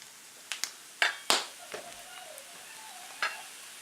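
Hamcakes frying in a pan, a soft, faint sizzle under sharp intermittent clicks and scrapes of a utensil, with a few separate taps spaced out; no talking.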